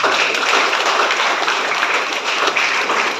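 Loud, steady applause from an audience at a memorial event fills the whole stretch, dense clapping with no pauses.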